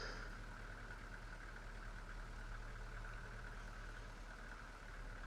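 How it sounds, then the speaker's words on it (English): Loud, steady truck engine drone from a farming simulator game, a constant idling rumble with a buzzing mid-range tone that holds unchanged throughout with no one talking. "I realize this truck is super loud"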